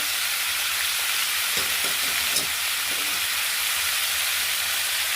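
Mustard seeds and lentils fry in hot oil in a pan, a steady broadband sizzle running throughout with a few soft crackles and pops near the middle, close and fairly loud, with no talking.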